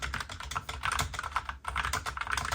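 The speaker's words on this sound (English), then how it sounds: "The keys are equipped with Kailh brown switches, or tactile quiet as Logitech calls them." Fast, steady typing on a Logitech MX keyboard for Mac fitted with Kailh brown tactile quiet switches, close and continuous, with dense soft clicks and no speech.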